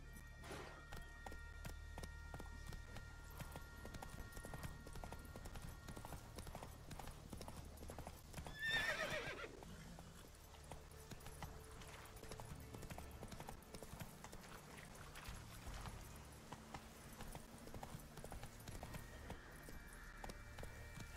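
Hooves of the horse Roach clop in a steady galloping rhythm in The Witcher 3, with game music and ambience underneath and a brief louder burst partway through.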